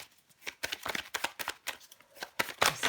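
Tarot cards shuffled and drawn by hand, giving quick papery riffles and soft snaps in irregular bursts, close and fairly loud, with no talking.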